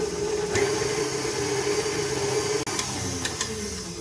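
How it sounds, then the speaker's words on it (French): An electric mixer beating sugar into a lemon cloud cake mixture until pale, giving a steady close motor hum with a few short clicks and knocks toward the end. "On va mélanger jusqu'à qu'on obtienne un mélange complètement blanchi."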